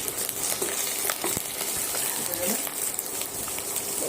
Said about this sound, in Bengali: তেলটা গরম হয়ে আসলে তারপরে পেঁয়াজ কুচানো, কাঁচা লঙ্কা ব্রাউন কালার করে ভেজে নিয়ে তার উপরে আদা রসুন পেস্টটা দিয়ে দেবো